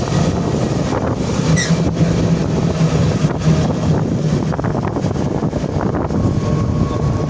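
Strong wind blowing outdoors along a rural road, a loud continuous rushing and buffeting against the microphone with a low rumble, no voices.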